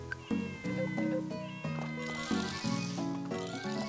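A cat in the farming game Story of Seasons: Friends of Mineral Town meows repeatedly over steady background game music, several short clear meows in sequence.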